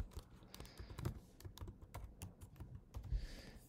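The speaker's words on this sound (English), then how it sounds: "If it requires an IP and if it requires an username, you type it in here" Keys clatter on a computer keyboard while an IP camera is configured on a Fibaro Home Center 3, a quiet, steady run of close, uneven taps and clicks with no voices.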